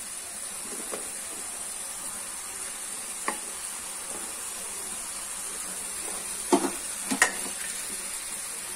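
Mixed vegetables for an Odia-style curry fry in a pan, giving a continuous soft sizzle and hiss with occasional spoon scrapes and a few sharper clinks toward the end.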